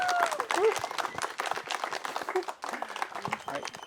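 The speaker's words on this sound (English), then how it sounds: "A round of applause to Victor." Wedding guests at a ceremony clap for the groom, Victor, in a loose, uneven patter of scattered claps, with voices and a few calls mixed in over it.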